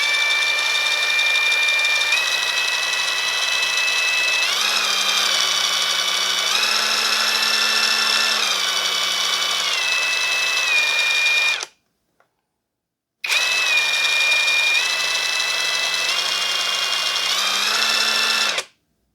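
A ProEuro impact wrench set to its minimum torque runs with a steady, loud, close whine that shifts pitch slightly, cuts out for about a second and then starts again and keeps running.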